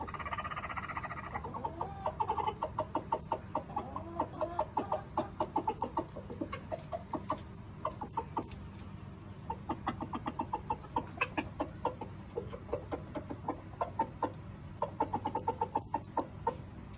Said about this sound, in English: What the heck is my rooster doing?